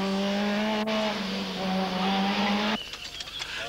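A Skoda kit car rally car driven flat out at the 1996 Croatia Delta Rally, its engine screaming at high revs with a strong harmonic whine, then cutting off abruptly into crackling, popping exhaust and gravel noise as it passes close by.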